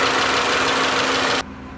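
A car engine overheating from a faulty thermostat runs steadily up close with a droning hum and light knocking texture, then the higher hiss cuts away abruptly near the end, leaving a quieter low hum.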